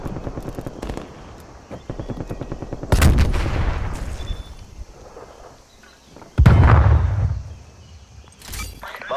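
Krig assault rifle gunfire in a Call of Duty match, loud sharp bursts of automatic fire in rapid strings, with heavy impacts and explosive booms breaking in at intervals against a busy battle backdrop.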